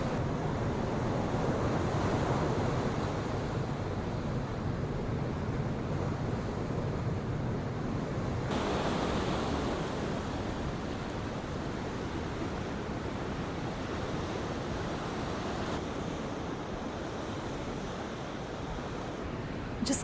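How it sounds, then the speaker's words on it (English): Waves wash onto the beach at Cala Sant Vicenç, Mallorca, as a steady, loud surf roar mixed with wind buffeting the microphone, continuous with a slight drop midway and no speech. "I'm in the firing line here for any incoming waves"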